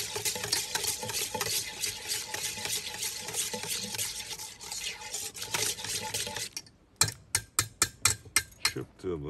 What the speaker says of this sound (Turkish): Bunu da çırpıyoruz.